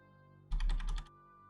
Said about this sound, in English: here is the right shift key